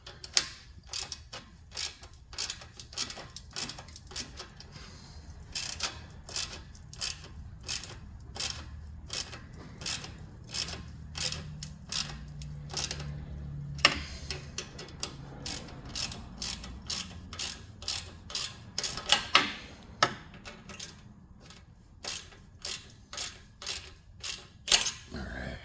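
Ratchet wrench tightening the clamps on a repaired exhaust flex pipe: long series of sharp, rhythmic clicking strokes, close and fairly loud, with short pauses between runs and some faint speech underneath.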